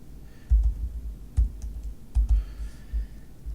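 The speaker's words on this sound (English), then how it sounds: "I'll just type in firewall." Typing on a computer keyboard while entering a search term on a Windows PC, a few short bursts of soft, close keystrokes separated by brief pauses.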